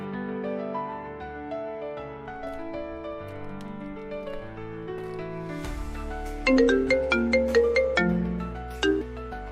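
A melodic phone ringtone plays, its chiming notes repeating and growing brighter and louder partway through.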